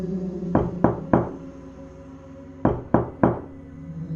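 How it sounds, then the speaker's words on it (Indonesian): Two sets of three firm knocks on a door, loud and close, separated by a short pause, with nothing else heard. "suara ketukan kembali terdengar. Kali ini lebih keras, lebih cepat"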